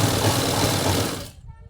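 A sewing machine stitches yellow piping onto a blouse in a brief, dense burst of rapid mechanical rattling that stops abruptly.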